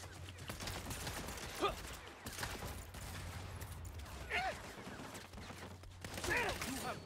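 Gunfire in the Saints Row video game, with repeated shots and bursts crackling through a steady game background hum, a few sharper reports standing out; speech-like voices occur faintly amid the shooting.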